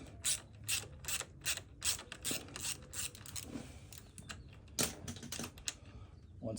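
A ratchet with a 10 mm socket backs out a water pump bolt on a KTM 300 XC, giving close bursts of rapid clicking strokes with short pauses between pulls.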